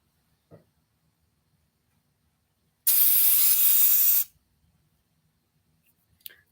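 An airbrush blasts cleaner through during a cleaning session, giving one loud, steady hiss of about a second and a half that is heard alone, with faint small clicks and handling noises before and after.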